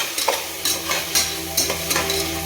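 Salted chicken frying in oil in a pan, stirred with regular scraping strokes roughly every half second over a constant loud sizzle, no one speaking.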